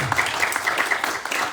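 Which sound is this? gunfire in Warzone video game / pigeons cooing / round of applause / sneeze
round of applause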